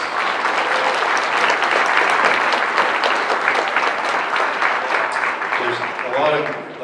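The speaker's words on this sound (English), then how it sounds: "I'd like to give one more big hand of applause." An audience at a high school marine chemistry senior symposium gives loud, sustained applause, a dense wash of clapping for the whole stretch, with a few voices near the end.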